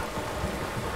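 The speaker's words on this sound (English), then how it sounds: "You were right about the damn rain." Dense, even rain hiss from Red Dead Redemption 2, a steady wash of raindrops with faint low rumble underneath, heard alone and constant throughout.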